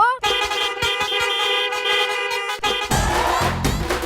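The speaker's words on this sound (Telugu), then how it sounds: "ఒక్క బైక్ ఇన్ని హారన్లా" A motorbike horn honks loudly in a rapid string of repeated toots, then gives way to a harsher blaring burst at the end.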